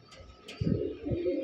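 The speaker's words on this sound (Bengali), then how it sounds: "কবুতরটা একটু দেখেন" Pigeon cooing from an old-breed Sapchila pigeon, a male kept with a female, at a pigeon seller's coop: soft, low, throaty coos pulsing in two or three swells, close and fairly quiet over faint background noise.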